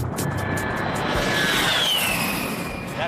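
A steady, loud roar from the engines of an A-10C Thunderbolt II close air support jet, broadband and continuous, with a faint whine sliding across it as the aircraft passes.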